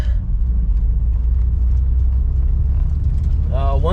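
Steady low rumble of a Mitsubishi Evo X MR driving at modest speed, engine and road noise held even throughout, with a voice briefly at the end.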